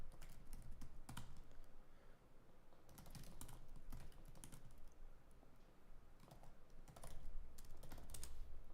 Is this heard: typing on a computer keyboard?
yes